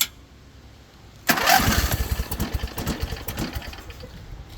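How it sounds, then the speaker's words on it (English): A lawn mower engine with freshly adjusted valves cranks over and catches, a sudden loud burst of rapid, uneven firing pulses after a quiet lead-in, then a steady close-up run with no talking. "But you see it turns over easily"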